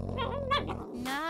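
Cartoon dogs yip and bark in a short close burst of several quick yelps, sitting over a steady background tone in an animated scene.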